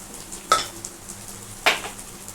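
Rice being fried in a pan for jeera rice, a soft low sizzle broken by two scraping stirs of a spatula.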